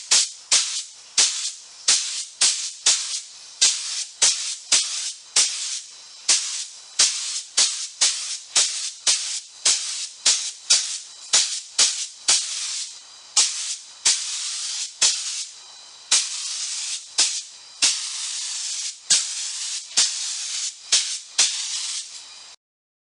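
Spray gun shooting walnut dye stain, lacquer thinner and pre-cat lacquer onto a Nichols and Stone rocking chair: loud, repeated bursts of hissing spray, each about a second long, in a steady rhythm with brief gaps and no talking.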